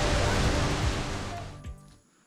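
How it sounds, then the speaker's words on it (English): Steady broadband rush of water at Theopani Waterfall near Satargaon, Assam, loud and continuous before fading out near the end. "This beautiful waterfall is called Theopani Waterfall"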